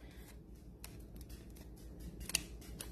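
Scissors cut through the bottom of a plastic piping bag, a few quiet, sharp snips and crinkles spaced unevenly over a soft background hum.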